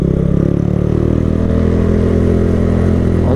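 A motorcycle engine running low on reserve fuel, a loud, close, steady chugging rumble with a rapid regular pulse and no talk.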